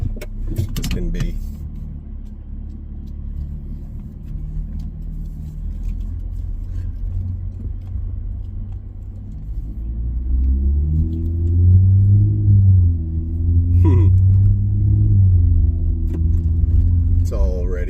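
A 2024 Nissan Frontier pickup with a straight pipe exhaust idles with a deep, loud, close rumble that swells into a stronger rev partway through, with a voice briefly heard near the start.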